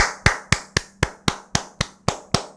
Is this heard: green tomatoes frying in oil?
no